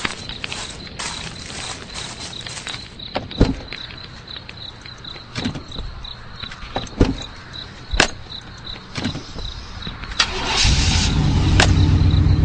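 Clicks and clunks of someone in a vehicle, then an engine cranks and catches into a steady rumble near the end, close by.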